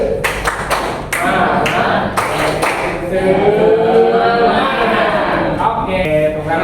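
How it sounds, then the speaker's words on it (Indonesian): A school class does a rhythmic clapping chant: a quick burst of sharp claps in a set pattern, then voices chanting together loudly and close. "Kita tepuk semangat dulu."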